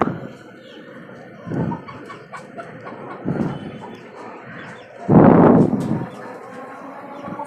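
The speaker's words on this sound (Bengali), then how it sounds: "এই খাঁচাটাতে আরো কিছু দেশি মুরগি আছে" Native chickens in a rooftop cage give a few short clucks and squawks, separated by quiet gaps, with a louder burst near the end.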